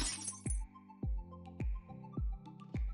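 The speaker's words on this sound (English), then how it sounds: "how to create a simple shatter effect like this one" Glass shattering effect from a Unity 3D demo: a crash at the start, then five sharp breaking and clinking hits in a regular pattern about every half second, each with a short ringing tail, loud and close.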